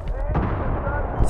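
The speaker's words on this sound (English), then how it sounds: "Grenade!" A grenade explosion in a multiplayer shooter match on the Noshahr Canals map: a loud, close boom with rumbling low end, mixed with players' voices over team chat.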